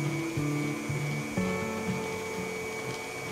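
An electric mixer beats butter with powdered sugar in short on-off bursts, its motor whine steady and close, rising and dropping in pitch as it stops and restarts.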